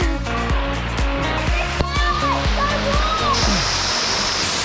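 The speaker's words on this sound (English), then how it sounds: "Pretty cool waterfall, isn't it?" A waterfall in Karijini, Western Australia, rushes in a constant close roar, with people talking over it.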